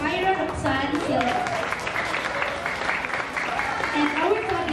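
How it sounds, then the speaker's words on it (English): A round of applause from a school audience at St. Theodore School, a steady wash of clapping running through the whole stretch while a voice speaks over it. "Let us give a round of applause for Ms. Ira Roxanne Silva."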